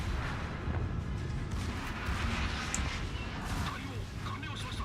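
Yamato battleship secondary guns firing in World of Warships, a dense rumbling barrage of booming shots under continuous game noise, with someone talking over it.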